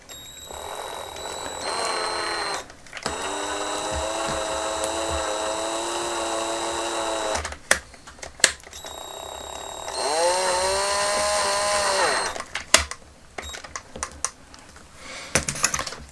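A power drill whines in two sustained bursts, drilling into the plastic arm of a vintage Kenner C-3PO toy, its pitch dipping under load, separated by clicks, handling noises and brief pauses.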